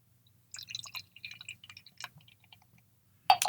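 Founders Backwoods Bastard bourbon barrel beer, 2017 edition, is poured into a glass, with a thick run of trickling, glugging splashes that stops briefly and then ends in a louder final splash.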